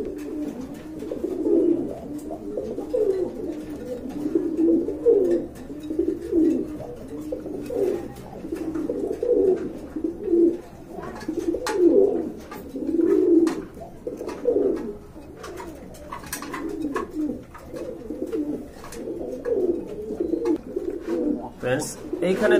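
Pigeons kept for sale coo over and over, a throaty, rolling murmur that rises and falls continuously, close by, with occasional sharper chirps mixed in.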